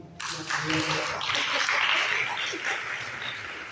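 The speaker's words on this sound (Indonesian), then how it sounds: "Tepuk tangan." A crowd bursts into applause at a university entrepreneurship seminar, steady, dense clapping that carries on for several seconds.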